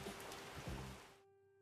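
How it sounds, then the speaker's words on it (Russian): Soft, steady patter of rain on a surface, a brief quiet wash that cuts off abruptly into silence. "Дождь."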